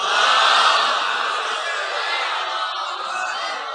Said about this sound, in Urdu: اس سے بلند صلوات دیا کریں۔